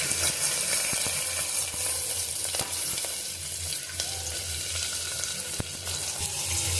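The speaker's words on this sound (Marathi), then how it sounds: "जिरं छान फुललं की कढीपत्ता मिरची उभे काप केलेली त्याच्यामध्ये आपण आता कांदा टाकून घेऊ" Onion dropped into hot oil tempered with cumin, curry leaves and sliced green chilli, a loud, steady close-up sizzle and crackle with a few sharp pops and a low hum beneath.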